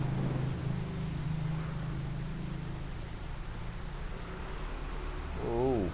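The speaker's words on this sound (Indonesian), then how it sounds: "Wah, malah hujan kita." Steady rain falls at night outdoors, a broad even hiss that lasts throughout, with a low engine rumble underneath.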